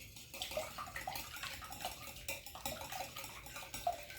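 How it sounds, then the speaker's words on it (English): Eggs being quickly whisked in a bowl for pumpkin bread batter, a faint series of light ticking clinks from the whisk against the bowl in an uneven rhythm. "So we're just going to give these kind of a quick whisk, just kind of break up the yolks a little bit."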